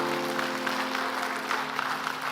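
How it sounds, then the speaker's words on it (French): A church congregation applauds during a sermon, with continuous, moderately loud clapping over a sustained organ or keyboard tone. "Applaudis Seigneur là."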